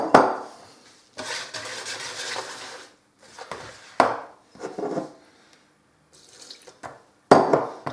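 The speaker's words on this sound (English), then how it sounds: "So pour some of your water in." Water pours in short, separate splashes into a bowl of bread dough ingredients for steamed bread, with quiet gaps between them.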